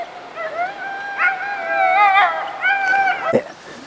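Sled dogs being harnessed howl and whimper in long, wavering, high-pitched cries that overlap. A short sharp knock comes near the end.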